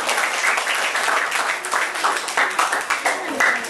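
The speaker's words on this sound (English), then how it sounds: "Ladies and gentlemen, let's give her a big round of applause." The audience at an elementary school debate gives a round of applause to the first affirmative speaker. The many-handed clapping is lively and sustained, with voices faintly mixed in.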